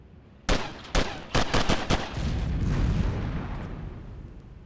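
Explosions and gunfire in the shooter video game Delta Force: Task Force Dagger: a rapid string of loud sharp blasts up front, then a long rumbling roll of debris and echo fading out.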